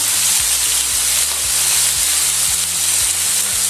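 Seasoned chicken sears undisturbed in a hot pan, giving a constant close sizzle with a low hum underneath.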